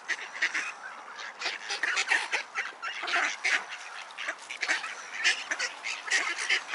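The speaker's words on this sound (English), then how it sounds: "God, there's a lot of ducks here now" Many ducks crowd together being fed, quacking and honking in dense, overlapping bursts that carry on steadily at moderate volume, with no one speaking.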